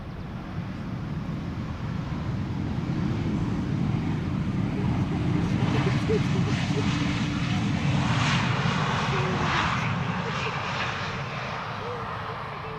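A Saudia airliner in white and green livery arrives at Schiphol, its engines a steady broad roar that swells toward the middle and eases off near the end, with no voices over it.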